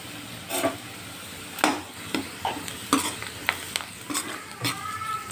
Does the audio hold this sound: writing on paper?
no